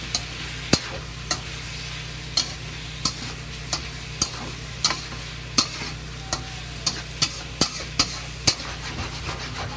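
Garlic, ginger and scallion stir-frying in a pan, a soft continuous sizzle under a dozen or so sharp, regularly spaced scrapes and taps of a utensil against the pan, close by and with no voices.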